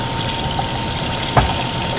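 Basmati rice being rinsed in water, with a steady rush of running or sloshing water throughout and a single brief knock partway through; no one speaks.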